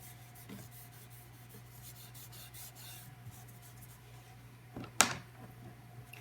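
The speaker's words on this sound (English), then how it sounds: "I'm just going to take my Kleenex and I'm just going to soften the bottom of it a little bit." A tissue rubs softly across a graphite pencil drawing of a winter tree on paper, giving a faint, continuous scuffing over a low background hum, with one sharper knock near the end.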